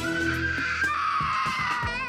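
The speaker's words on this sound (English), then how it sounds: "He's into screaming right now to get his way." A toddler, about three years old, screams shrilly to get his way, giving sustained wailing cries with a few short yelps, close and loud indoors.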